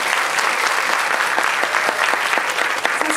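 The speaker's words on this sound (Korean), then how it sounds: "두 분이 부끄러우실 테니까 박수 한 번만 보내드릴게요." Audience applause at a film screening Q&A event, a steady dense patter of many hands clapping together, loud and close, with no talk over it.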